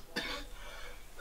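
One short, quiet cough near the start, followed by faint room noise.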